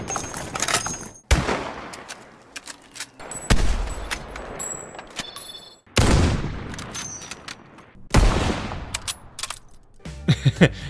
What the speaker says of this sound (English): listening to a few of the guns from the Call of Duty series to see how they compare with one another